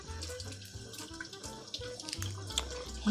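Tap water runs steadily into a sink while buuz dumplings are washed, a continuous close splashing stream with clatter and no talk.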